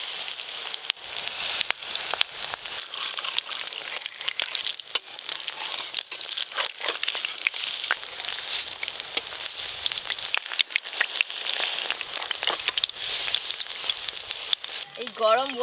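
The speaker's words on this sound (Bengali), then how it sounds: "এইভাবে সব বড়াগুলো ভেজে নেবো।" Pumpkin flower fritters sizzle steadily in hot oil, a continuous bright crackle and hiss with scattered pops, close and fairly loud throughout with no talking over it.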